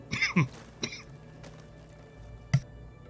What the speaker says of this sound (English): Coughing fit followed by sneezing fit.